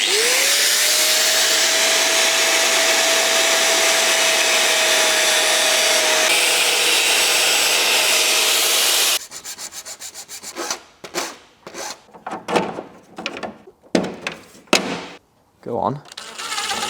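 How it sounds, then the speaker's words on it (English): A power tool cuts into the grille of a Land Rover Defender being built for overlanding, first a loud steady whine that winds up in pitch, then choppy bursts of rasping and scraping as the cutting stops and starts. "I'm gonna cut out a little bit, see if that works"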